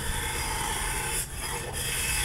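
A steel burnisher rubs along the edge of a cabinet scraper blade, a continuous close, hissing scrape with two brief dips in the middle of the stroke.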